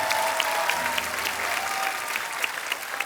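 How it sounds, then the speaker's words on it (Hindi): A studio audience at a Hindi comedy talk show breaks into loud, sustained applause, dense clapping with crowd noise and a faint hum underneath, close and full for the whole stretch. "एक बार जोरदार तालियां हो जाए।"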